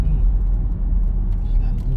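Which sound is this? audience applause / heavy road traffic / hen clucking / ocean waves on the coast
heavy road traffic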